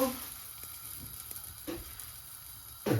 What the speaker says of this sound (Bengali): দুইটা পরোটা ভাজি নিই